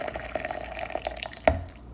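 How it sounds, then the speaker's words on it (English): Boiling water poured over pineapple skins in a container for pineapple skin juice, a steady close trickle and splash of liquid with small drips, briefly louder for a moment near the end. "So I add boiling water to the pineapple skin."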